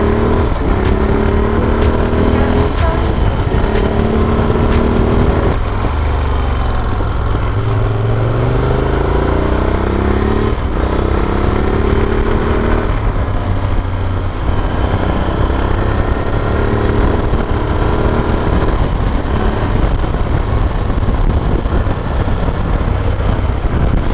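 A Moto Guzzi Stelvio motorcycle, freshly rebuilt engine, accelerating on the road: a loud, continuous engine roar that rises and falls as revs climb and drop, with a passing car mixed in and no talk.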